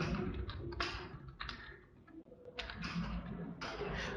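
Rapid clicking of keys on a computer keyboard as a name and college name are entered, quick bursts of close keystrokes with short pauses, no voices.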